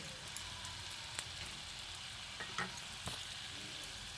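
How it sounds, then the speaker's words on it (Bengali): Potato curry gravy bubbling in a pan, a steady low simmering crackle with faint irregular pops throughout, alone without any voices. "দেখুন, ঝোল খুব ভালোভাবে ফুটে উঠেছে।"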